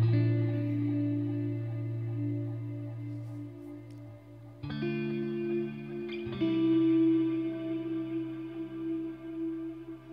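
Electric guitar rhythm track drenched in ambient effects in Logic Pro X, sustained chords washed in reverb, echo and chorus, changing chord twice and ringing moderately loud with no talking.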